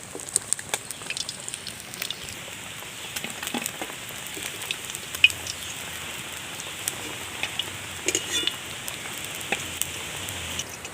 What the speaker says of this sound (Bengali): বাকি মাছগুলো আমি একই রকম করে ভেজে নেব।